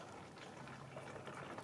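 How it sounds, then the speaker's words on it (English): Motor oil pours steadily into the engine of a Pontiac G6, a faint continuous bubbling, glugging trickle with no break. "Pouring oil, Nova."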